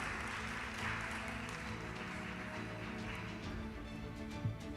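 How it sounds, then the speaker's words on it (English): Steady, faint clapping from an audience welcoming new National Junior Honor Society inductees at a school ceremony, a continuous wash of many hands heard from a distance with no talk over it. "give them one more big round of applause"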